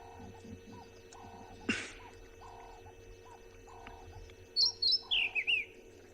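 A Cape robin, a territorial male, sings a few brief bright phrases near the end, heard faintly against a quiet outdoor background with a soft repeated mechanical tone and one short knock earlier.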